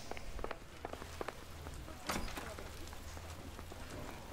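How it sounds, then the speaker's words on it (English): Rain falls steadily on a city street in the video game L.A. Noire, a soft continuous patter with scattered drop ticks and a faint low rumble, fairly quiet and without speech. "It's a rainy day."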